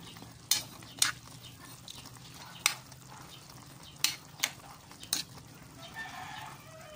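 A spoon clinks against a pot while stirring chicken sinigang with added seasoning, giving about seven sharp, scattered knocks over a quiet simmering background with no talking.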